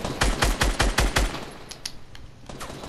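Rapid burst of automatic gunfire in the Fortnite video game, about six loud shots in quick rhythm followed by a few fainter scattered shots.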